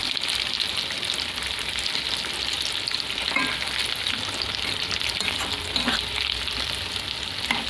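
Pointed gourds stuffed with potato filling fry in hot oil, giving a steady, dense sizzle with bubbling crackle that continues without pause, close and even in loudness.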